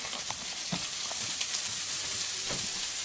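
Thick slices of Spam fry in a pan with a steady, close sizzle and crackle throughout, broken by a few soft scrapes and taps, and no voices.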